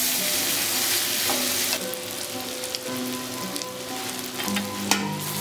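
Spice paste sizzles and fries steadily in a pan over medium heat while being cooked down for taro greens, giving a dense, continuous crackle with occasional stirring scrapes and no voices.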